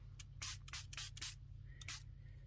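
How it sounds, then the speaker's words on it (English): Spray bottle spritzing water onto a vintage photo for a junk journal craft project, several quick close hissing bursts in a short uneven series, with soft handling noise between them. "Then spritz."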